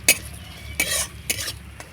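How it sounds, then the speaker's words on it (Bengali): Grated carrots stir-fried with tempering spices in a pan, a soft sizzle broken by three or four close metallic spatula scrapes, loud and alone. "গাজরটাকে নাড়াচাড়া করে হালকা হাতে ভেজে নেব"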